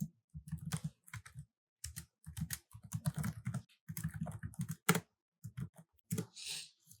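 Keys clattering on a computer keyboard while Java code is typed, in rapid uneven bursts of clicks separated by short pauses, close and fairly quiet with no speech.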